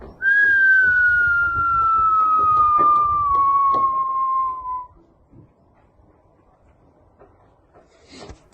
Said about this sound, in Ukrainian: лякають загарбників навіть простим свистом